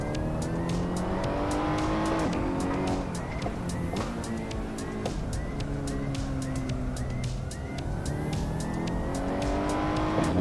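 Race car in a racing video game, its engine revving up and down through repeated gear shifts with occasional tire squeal, loud and continuous throughout.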